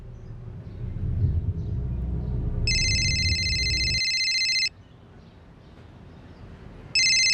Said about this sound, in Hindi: विवेक भैया का फोन